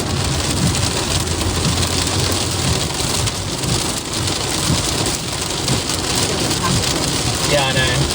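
Heavy rain pours steadily through a thunderstorm with lightning in Naples, a dense continuous hiss close by with low rumbling underneath.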